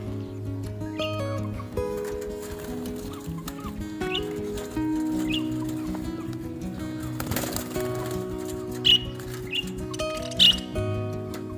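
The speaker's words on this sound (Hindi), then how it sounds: "ये देखिए बोल भी रहे हैं, इनकी आवाज़ ना उन वाले पैरेट से काफी डिफरेंट है" Yellow parrots in a cage give repeated tonal chirps and squawks, with a few sharper, louder calls near the end, set over a low steady background.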